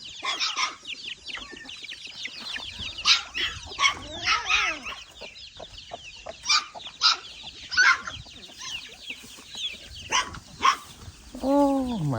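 Chickens cluck at a farm where cows are taken out to graze in a field, giving a run of short, uneven calls at close range, some louder than others, with no talk over them.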